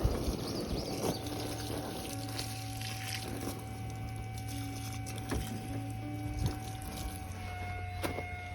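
Water from a hose fed by a garden pump runs and splashes steadily onto plants, with a low humming drone of the pump underneath and occasional light clunks.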